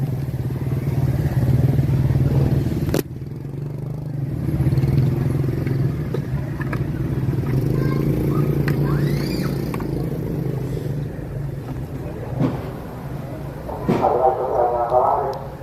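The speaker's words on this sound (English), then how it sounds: "Let's grab my motorbike." Motorbike traffic on a Hanoi street at night, a steady low engine drone running throughout with clattering bumps and street noise, and people talking over it nearby.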